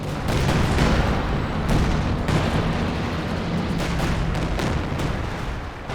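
Tank cannon fire from a Panther trading shots with an SU-85 in Company of Heroes 2, in a dense loud battle din of booming shots and explosions, with no talking.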